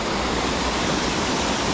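The Wharnley Burn waterfall pours in a steady, dense rush of broadband white water, close and continuous, with no other sounds over it.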